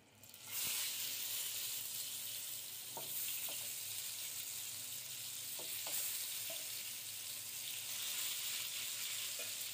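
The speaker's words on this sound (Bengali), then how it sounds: "এবার বেগুনগুলো একটু বাদামি কালার করে ভেজে নেব" Eggplant slices fry in hot oil, a steady close sizzle and hiss running throughout with a few faint scraping touches, and no one talking.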